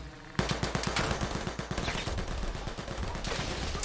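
Rapid gunfire in Predator: Hunting Grounds, a dense burst of repeated shots cracking in quick rhythm for several seconds, loud and close, with a sharp hit landing in the mix.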